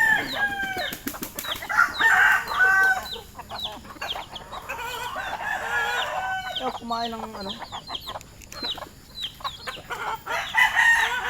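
Hens cluck busily close by while a rooster crows, with a person speaking briefly among the birds.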